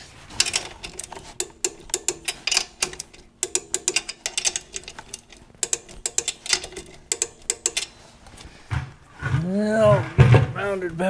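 A ratchet tightening 9/16 U-bolts on a 1987 Toyota 4Runner, rapid clicking bursts repeated in quick strokes, close and fairly loud, giving way near the end to a steady humming drone.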